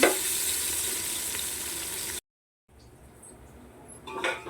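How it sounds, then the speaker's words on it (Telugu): Sliced onions frying in a pan at home, a loud, even sizzle for about two seconds, then a short break, and then quieter frying with a few stirring scrapes. "ఈ ఉల్లిపాయలు ఎగుతున్నాయి కదా, ఇవి బాగా గోల్డెన్ కలర్ వచ్చినంత చేసుకోవాలి."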